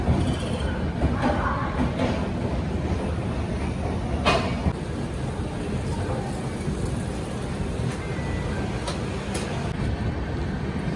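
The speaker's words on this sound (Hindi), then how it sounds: "बिल्कुल अपने समय से निकलती हुई बीकानेर सुपरफास्ट शालदा जंक्शन से" Bikaner Superfast Express pulling out of Sealdah junction, a steady rolling rumble of railcars with faint rhythmic clatter, close and continuous.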